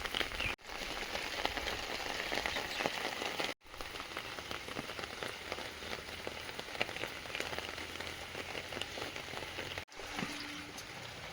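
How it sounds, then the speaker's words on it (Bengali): Heavy rain pours steadily and loudly, a dense hiss of drops drumming on a surface, briefly cutting out a few times. "বৃষ্টি আবার জোরে আসছে খুব।"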